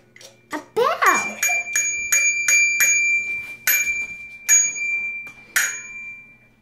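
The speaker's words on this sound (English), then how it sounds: "A bell." A bicycle bell on a child's new Christmas bike rings in a series of bright metallic dings, about eight rings spaced irregularly, close and fairly loud with no talk over them.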